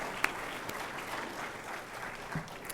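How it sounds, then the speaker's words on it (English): Audience at a college event applauds contest participants, a soft, steady wash of many hands clapping from across a large room, with a couple of sharper individual claps. "let's applaud all of the participants in that contest"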